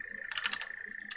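Fast keystrokes rattle on a computer keyboard while code for a Unity 2D enemy script is typed. A quick burst of close clicks is followed by one more tap, over a faint steady tone.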